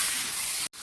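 Steady loud hiss of fish frying in hot mustard oil as it is stirred, a close continuous sizzle broken by a brief cut near the end.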